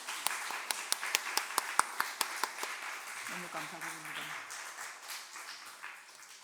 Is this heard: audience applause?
yes